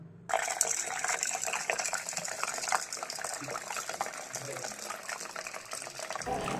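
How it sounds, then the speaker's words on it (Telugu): Water streams steadily into a glass of sprouting seeds set to soak overnight, a continuous splashing gush that lasts several seconds before cutting off. "ఇప్పుడు దీంట్లో వాటర్ వేసి ఓవర్ నైట్ నానబెడుతున్నాను"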